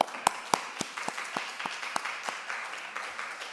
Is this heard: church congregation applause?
yes